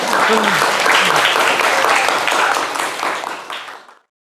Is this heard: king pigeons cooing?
no